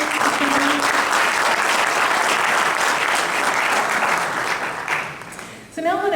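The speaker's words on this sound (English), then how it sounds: "Can we give them a round of applause?" Audience applause for school board candidates at a 2022 Radford candidate forum, a steady dense clapping that fills most of the stretch, then fades and breaks off near the end as voices start up.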